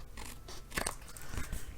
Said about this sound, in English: So I'm going to trim it here,